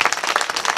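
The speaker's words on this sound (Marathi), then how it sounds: "जोरदार टाळ्या वाजवा सर्वांनी" A crowd at a devotional gathering with a community meal claps in a short, loud, dense burst of applause.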